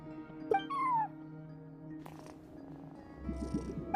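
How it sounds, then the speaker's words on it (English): A cat in a video game, perched at a front desk, gives a short rising meow and soft purring amid quiet game ambience and scattered small effects. "No one except for a cat watching over the front desk."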